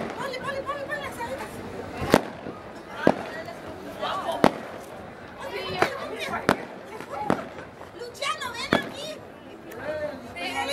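Firecrackers burst at a town verbena festival: about a dozen sharp, loud bangs come at irregular intervals while a crowd chatters and shouts nearby throughout.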